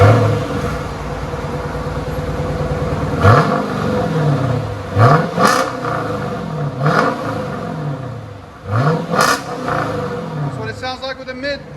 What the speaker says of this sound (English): That's what it sounds like with a mid delete.